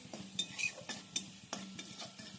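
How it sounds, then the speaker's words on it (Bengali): Coriander and cumin powder fry in a pan with a soft sizzle while a spoon scrapes and stirs in quick irregular strokes, close but quiet. "অল্প একটু ধনের গুঁড়ো জিরের গুঁড়ো এবার এগুলোকে একটু ভেজে নিচ্ছি"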